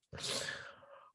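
A single close, loud sneeze during a podcast conversation, a sharp burst that trails off quickly.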